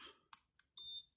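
A blood glucose meter gives short electronic beeps after a test strip is inserted: a brief chirp, a faint blip, then a sustained tonal beep about a quarter second long, clear and close in a quiet room with no talk.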